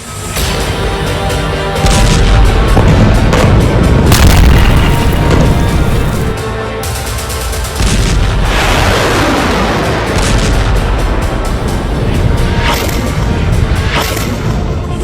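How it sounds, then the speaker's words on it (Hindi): Bunker buster bombs detonating deep underground against tunnel networks, heard as a sustained series of heavy, loud booming blasts with rumbling aftershocks throughout, no voices present. "ये ऐसा बम है जो जमीन के 60 मीटर अंदर जाकर धमाका करता है।"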